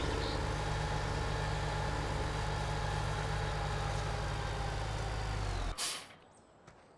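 In Farming Simulator 17, a tractor engine drones steadily at idle, then a sharp air brake hiss bursts out near the end before the sound drops to near silence.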